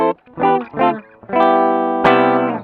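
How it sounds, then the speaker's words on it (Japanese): An electric guitar plays clean, unprocessed notes through a ZOOM G1 X FOUR multi-effects processor in bypass: a few short picked notes, then two ringing chords left to sustain. "でまずバイパスはこんな音です。"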